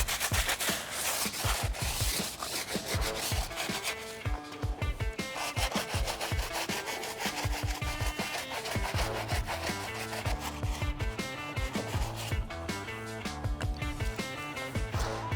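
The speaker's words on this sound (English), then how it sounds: "we're gonna be using our tire brush, which is gonna help us get into some of these grooves and things on here" A tire brush scrubs the grooves of a soapy car tire in steady, rapid back-and-forth strokes, close and loud, running continuously without talk.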